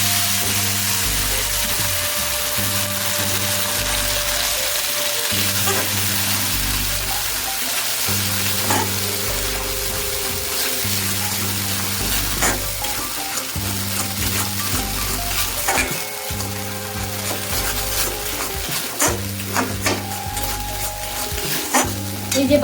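Cashew, melon seed, green chilli and ginger paste frying in hot oil for paneer capsicum, a loud continuous sizzle over a low pulsing background hum, with occasional stirring clinks.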